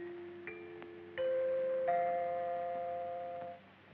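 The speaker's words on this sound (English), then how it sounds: "When you hear the sound of the chimes, the time will be 12 o'clock, midnight, Pacific Standard Time." Radio time-signal chimes marking midnight Pacific Standard Time in a 1932 film soundtrack: three ringing, bell-like tones struck one after another, each sustaining and overlapping into a clear chord that slowly fades, heard alone without voices.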